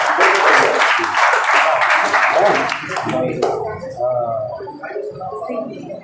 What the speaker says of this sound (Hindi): ये मेघा के लिए भाई जोरदार ताली हो जाए भाई।